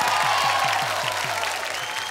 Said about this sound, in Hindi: जोरदार ताली भैया